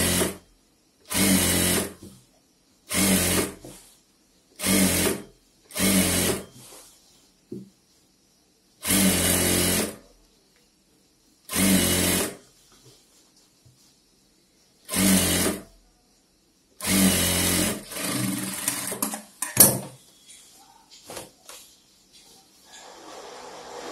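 A sewing machine stitches a silk pavadai skirt and its lining together in about ten short, even bursts separated by brief pauses, close and loud with no talking.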